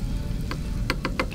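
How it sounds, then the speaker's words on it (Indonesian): Egg batter for a crispy egg dish fries in hot oil, giving a steady low sizzle with a few sharp crackling pops near the end. The sound is close, and there is no speech. "Langsung aja goreng."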